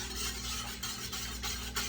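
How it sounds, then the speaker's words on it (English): A whisk stirs a salt brine for canning whole jalapeños, scraping and swishing in quick, repeated strokes close by. "I'm going to just whisk everything together"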